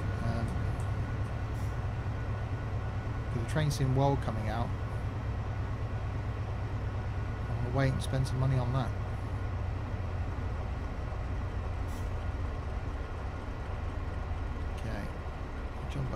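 A Class 70 diesel freight locomotive in Train Simulator 2017 runs on the South Wales Coastal route with a low, steady engine drone and periodic clanking bursts, while someone talks over it.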